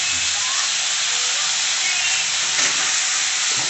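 Onions and tomatoes fry loudly in a pan for crab gravy, a dense, steady, close sizzle and hiss that continues throughout without pause.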